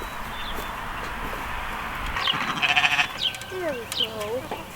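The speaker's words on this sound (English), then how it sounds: "We'll grab the sheep and bring them in." Sheep bleat repeatedly, close by, while a flock is gathered and brought in on a farm. Several wavering calls overlap one another, and people talk in the background.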